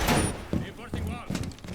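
Wall being reinforced in a tactical video game: a series of heavy metallic thuds and clanks, roughly four impacts spaced evenly, with voices talking in the background throughout.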